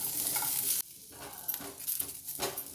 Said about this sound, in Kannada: ಒಂದು ಮೀಡಿಯಮ್ ಸೈಜ್ ಈರುಳ್ಳಿ ಕಟ್ ಮಾಡ್ಕೊಂಡಿದ್ದೀನಿ ಅದನ್ನು ಹಾಕೋತಾ ಇದ್ದೀನಿ ಇದನ್ನು ಚೆನ್ನಾಗಿ ಕೆಂಪಗಾಗೋ ತನಕ ಇದನ್ನು ಬಾಡಿಸ್ಕೋಬೇಕು